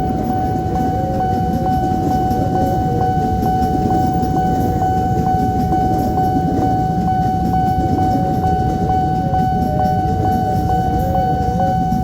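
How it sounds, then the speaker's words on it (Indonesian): A KRL commuter electric train, a JR 205 series, rumbles past steadily at Citayam, with a sustained tonal whine from the motors over the low rolling noise of the cars. "Ada KRL tujuan Jakarta Kota JR 205 102"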